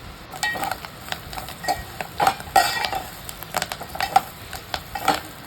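Fresh coriander leaves are stir-fried in a hot oiled pan, giving a steady sizzle with repeated scraping and clinking strokes of a spatula against the metal, close and fairly loud with no voices.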